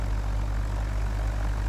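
A propeller airplane engine in the Garry's Mod video game drones steadily at idle, a continuous close, even hum with no voices.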